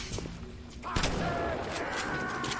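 Gunfire from the BioShock video game, a burst of shots at moderate loudness blending into a busy game mix with faint voices underneath.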